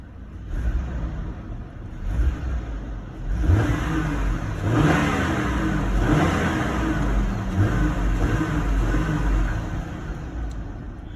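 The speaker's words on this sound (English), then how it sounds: "Let's rev it a little bit because it's all warmed up." A warmed-up 2009 Hummer H3 with a five-cylinder engine idles close by, then is revved in several rising and falling bursts over a steady low engine drone.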